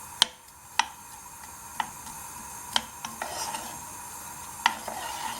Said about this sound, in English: I just want to give the onion a quick fry off, just to saute it, just to soften it down.